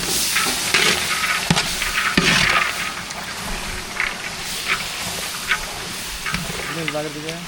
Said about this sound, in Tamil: இது கூட காய்கறி சேர்த்துக்கலாம் சேர்த்து நல்லா கலந்து விட்டுக்கலாம்